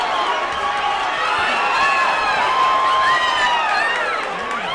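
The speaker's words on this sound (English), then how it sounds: "Torres crowd warming up here at the DoubleTree in Ontario" Boxing crowd at a bout at the DoubleTree in Ontario, a dense steady roar of cheering and shouting voices with whoops rising and falling throughout, loud and continuous.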